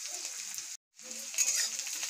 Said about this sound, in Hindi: तो प्याज को थोड़ा गोल्डन ब्राउन होने तक भून लेती हूँ